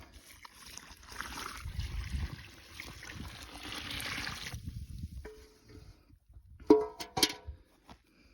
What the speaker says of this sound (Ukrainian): Тепер заливаємо все знову водичкою.